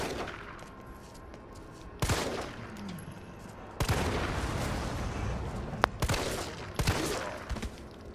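Several sharp gunshots ring out in Resident Evil 3 Remake, spaced a second or more apart, each with a short echoing tail over a quiet game background.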